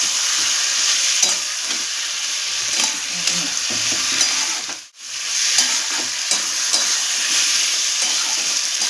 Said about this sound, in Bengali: আমাকে কষতে হবে।